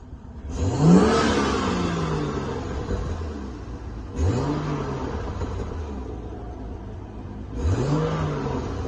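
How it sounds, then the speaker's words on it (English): BMW N55 engine fitted with a new BMS intake revving three times, each blip rising sharply then falling back to idle, close and loud with a steady rumble between revs. "But here's a little rev."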